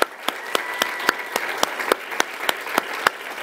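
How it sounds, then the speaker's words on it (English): Sustained applause from an audience for the Paschal High School Jazz Band, with sharp individual claps standing out in a steady, almost rhythmic beat over the broad wash of clapping. "we want to also give a big hand to the Paschal High School Jazz"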